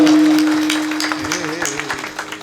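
An audience claps at a comic Marathi kirtan, scattered, moderately loud applause over a sustained musical tone that fades slowly.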